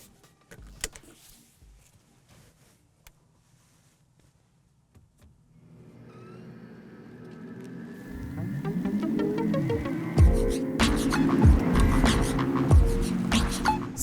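A 2024 Mercedes-AMG EQE electric SUV setting off, starting quiet with faint clicks, then a growing electric motor whine and road rush that swells and sweeps in pitch as it accelerates.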